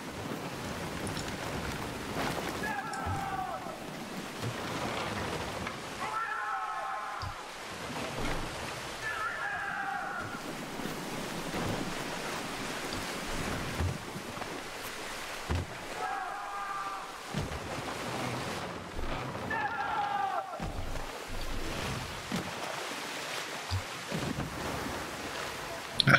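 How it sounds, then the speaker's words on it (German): A pirate sailing ship beats against the wind in Skull & Bones, with rolling waves, sea wash and gusting wind in a steady ambient bed, swelling and easing over the stretch. "Ja, wir segeln jetzt gegen den Wind."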